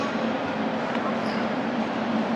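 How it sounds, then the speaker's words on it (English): Rumbling and steady rolling of a small red tram, packed with passengers, in Prague's Old Town, a continuous near hum with a faint brief squeal and no clear speech. "It's a cool little tram."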